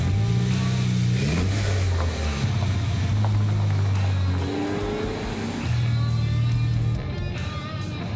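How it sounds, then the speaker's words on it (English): Several Mini cars gathered in a parking lot rev their engines repeatedly, with rising and falling pitches overlapping up close over a continuous rumble. "Gentlemen, rev your engines."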